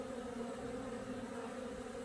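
Honeybees fly at an apiary hive during the April cleansing flight, giving a steady, fairly faint buzzing hum with no talking.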